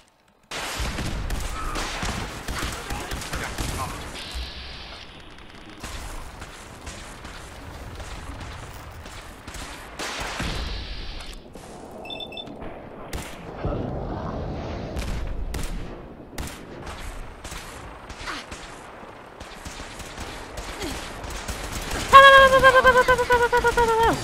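Gunfire in Fallout 4 cracks out in repeated sharp bursts and single shots with occasional heavier booms, spread unevenly over the stretch, with a player talking in between.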